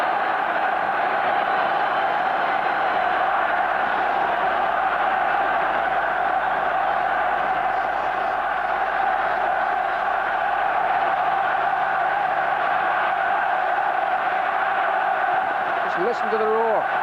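A dense, continuous roar from a large football stadium crowd at a 1990 World Cup qualifier between the Republic of Ireland and Spain, steady and loud throughout, with broadcast commentary blended in.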